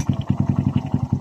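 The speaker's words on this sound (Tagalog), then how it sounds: "Kaya kickstart natin ang kanyang motor, guys" Small Honda XRM 110-type motorcycle engine just kickstarted and now running, a steady rapid chugging idle with even putters, moderately close and fairly quiet.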